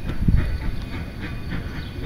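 A Durango and Silverton train rolls along the rails nearby, a low, loud rumble with a thump near the start and a faint steamy hiss above it.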